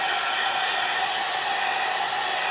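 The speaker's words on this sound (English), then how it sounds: "I'm going to hit this real quick with a dryer" A hair dryer blows steadily and loudly to dry paint on a heart-shaped basket light craft, a continuous airy roar with no breaks and no talking.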